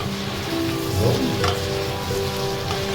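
Meat sizzling and frying in a pan as it finishes cooking until tender, a steady close crackle with some stirring, no talk.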